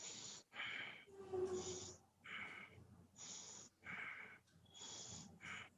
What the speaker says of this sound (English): Count 4 times short breaths.